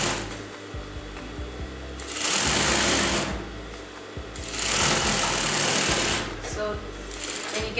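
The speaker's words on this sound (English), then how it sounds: "Sew all the way down." Sewing machine stitching a tote bag in two loud, sustained bursts of rapid whirring, separated by quieter pauses with handling noise in between.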